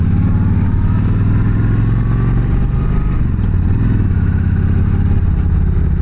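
Motorcycle engine running steadily while riding on a road, loud and close, with a constant low rumbling drone and no talk.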